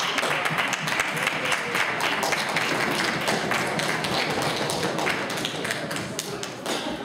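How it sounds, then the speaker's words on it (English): Audience applause for a choir, a dense, steady patter of many hands clapping with sharp individual taps, sustained and fairly loud throughout. "I know it's going to be hard to clap with the lights on"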